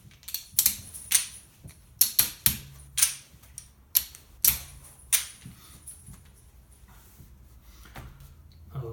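Tiles dropped one after another onto a table while dealing hands, a run of sharp clicking clacks in quick irregular bunches, close and crisp, thinning out toward the end with no talk.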